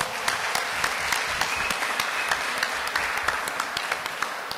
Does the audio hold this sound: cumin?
no